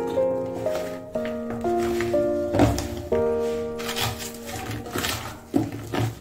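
Eggplant pieces being hand-mixed with salt, chili powder and masala in a bowl, giving soft squishing and rubbing sounds up close, with tonal background music throughout.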